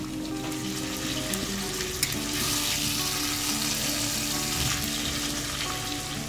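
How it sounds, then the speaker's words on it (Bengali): A whole 1.5 kg red snapper frying on a medium flame makes a continuous, dense, bubbling sizzle close by, steady throughout with no talk. "এইভাবে মিডিয়াম ফ্লেমে মাছটা আস্তে আস্তে নিচের দিকটা ভাজা হবে"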